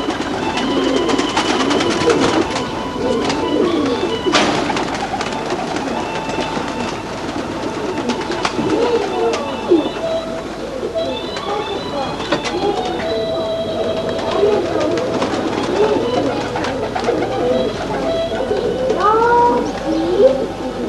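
Pigeons kept in a loft coo and burble continuously at close range, layered with overlapping calls and soft wing or body rustles over a steady background.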